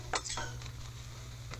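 Metal spatula flipping green onions on a Blackstone griddle: a few quick scrapes and taps on the flat-top over a low steady hum, close by.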